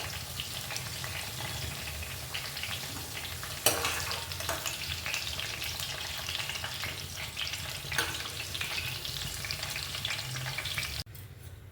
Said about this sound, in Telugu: దొండకాయ ఇలా వేగాలండి.